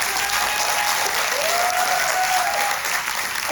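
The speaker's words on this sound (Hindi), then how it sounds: "इसके लिए तालियां बजनी चाहिए।" Steady, dense applause from an audience at a college of pharmacy farewell party fills the clip, an even wash of clapping throughout with a faint tone briefly audible underneath.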